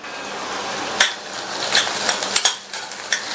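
Garlic, ginger and green chillies sauté in a pan, a soft continuous sizzle with a few sharp clinks and scrapes of a spoon stirring against the metal.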